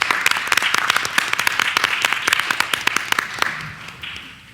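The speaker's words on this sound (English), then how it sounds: "I want us to give a clap for all our amazing students" An audience at a school board meeting claps for students, a loud burst of many hands with sharp individual claps that holds steady for several seconds before tapering off near the end.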